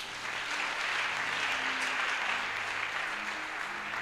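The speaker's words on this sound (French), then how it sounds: "Puis acclamer cette parole." A church congregation breaks into steady, sustained applause, a dense, even clapping that lasts throughout without speech.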